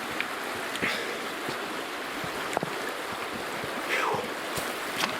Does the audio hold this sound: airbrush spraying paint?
no